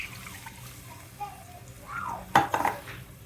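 Buttermilk poured into a cooking pot of spiced masala, a soft liquid splash followed by a sharp clatter of a utensil against the pot and a few lighter knocks, close by and fairly quiet.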